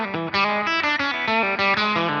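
Electric guitar played through a Fractal FM9/Axe-Fx III with slap delay, spring reverb in front of the amp and AC30 Celestion Blue impulse responses, a quick run of bright distorted notes with short echoing repeats, alone and clear.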